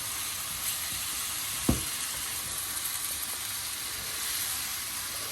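Minced meat for a cottage pie sizzles steadily in a wok, a soft, even frying hiss with one brief clack near the start and no voices.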